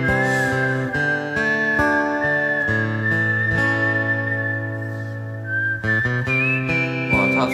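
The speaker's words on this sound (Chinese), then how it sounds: "哇，他吹口哨的" A singer whistles a melody during a Singer 2020 performance, a clear, sustained tone sliding between pitches over a steady musical accompaniment.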